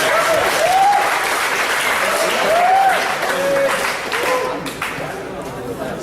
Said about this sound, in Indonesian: Untuk para hadirin dipersilakan untuk memberikan tepuk tangan.